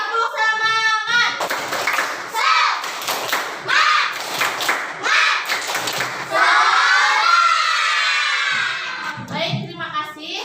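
A primary school class of children claps through a spirited clap chant, voices mixing with a run of sharp claps, followed by a long sustained group shout and a voice at the end.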